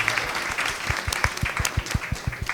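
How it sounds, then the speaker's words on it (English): Audience at a college quiz competition applauding in a lively burst, sharp claps with strong rhythmic beats standing out through a dense, steady clatter, fairly close and loud. "Please give them an applause."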